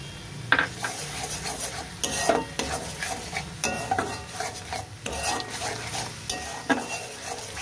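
Pea ghugni with curd and turmeric is stir-fried in a pan, a spatula knocking and scraping in uneven strokes over a low sizzle, close and moderately loud, with no talking.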